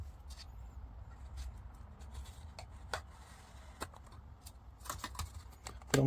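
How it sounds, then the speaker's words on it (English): Plastic tabs of an Alfa Romeo Giulietta dial cluster snapping into place, a handful of faint, sharp clicks scattered over quiet background hum, the last one louder and close. "Get all 4 of those tabs clicking."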